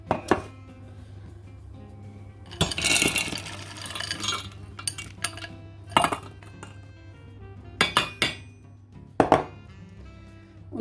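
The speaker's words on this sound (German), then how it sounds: "Dann gehen als nächsten Schritt die Beeren in einen Topf." Berries going into a cooking pot for a quark and cream berry cake: clattering clinks and knocks of pot and utensils in a quiet kitchen, with a louder burst of rattling around the middle and a few sharp clanks near the end.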